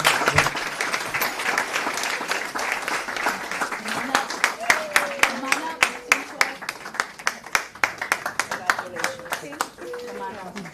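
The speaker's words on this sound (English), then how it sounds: "Please help me welcome them with a big round of applause." An audience at a school board of education meeting gives a big round of applause to welcome a team, sustained and fairly close, thinning into sharper individual claps, with a voice talking over it.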